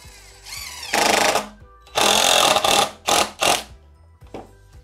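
A power drill drives screws down through one wooden pallet into another, sounding as a series of loud whirring bursts of varying length with short pauses between them.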